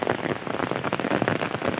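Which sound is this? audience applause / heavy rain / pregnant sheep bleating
heavy rain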